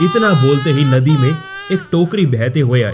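An infant cries in repeated rising wails near the listener, heard inside a narrated Hindi moral story about a baby found floating in a basket on a river, with a narrator's voice speaking over and between the cries.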